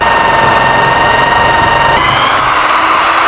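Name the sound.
electric drill boring hole in wood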